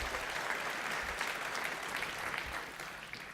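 Faint applause from a seated audience at a conference opening, a continuous wash of clapping that fades slightly toward the end, with no talking over it.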